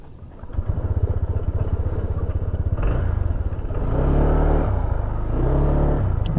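A Honda Click 160 scooter engine rumbles nearby as it sets off from home, starting with a steady idle-like putter, then rising into a louder, fuller drone as it accelerates away.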